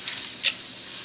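Dried red chillies splutter in hot oil in a pan, a soft sizzle broken by one sharp, close crackling pop midway through the brief moment.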